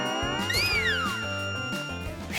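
Newborn kitten in a Hello Kitty cartoon meowing, a high, sliding mewl near the start over cartoon background music, close and clear, with no talking.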